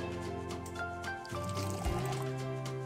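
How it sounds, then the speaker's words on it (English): Boiling water pouring into a medium bowl of dark brown sugar, a close, steady liquid trickle with a rising fill tone over about three seconds. "combine 2/3 cup of dark brown sugar, 2/3 cup of hot boiling water."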